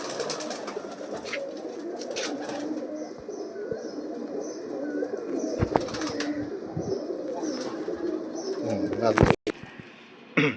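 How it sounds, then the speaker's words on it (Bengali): Prize fancy pigeons, the best of a group of ten, coo repeatedly in a loft, soft throaty calls over a busy background with bits of talk and some sharp handling noises. "দশটা পায়রার মধ্যে যে বেস্ট পায়রা থাকে সেই বেস্ট পায়রা দেখানো হচ্ছে"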